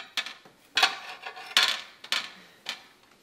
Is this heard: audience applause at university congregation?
no